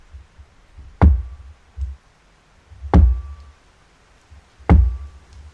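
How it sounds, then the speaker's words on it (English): Three slow, heavy knocks land on a motel room door, evenly spaced about two seconds apart. Each one is loud and close, with quiet between the knocks. "Three slow knocks, exactly like the tapes."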